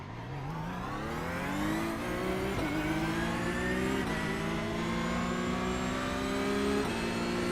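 Supercharged 6.2-liter race car engine in the iRacing simulator, revving up through gears with rising pitch and brief shift dips, loud, close and continuous with no talk.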